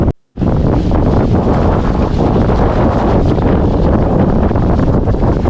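Strong, steady wind of about 25 knots roars across the microphone on a sailboat without a break, with a rushing, buffeting hiss and a faint wash of water beneath it.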